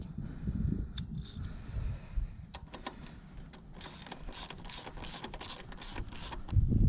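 A ratchet or wrench tightens the bottom bolt of a rear shock on a 2003 Honda Rebel, giving a run of quick, faint clicking strokes close by with no talking.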